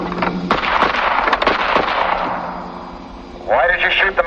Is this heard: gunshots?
yes